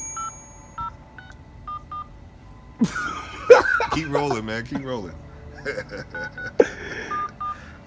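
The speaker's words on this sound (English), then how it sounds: "About to try to call his other phone number." A number is dialed on an Android phone: a string of short, evenly spaced keypad tones, then someone speaks and coughs, and a few more tones follow near the end.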